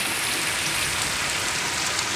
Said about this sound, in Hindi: अल्लाह पाक ने रहमत वाली बारिश दी है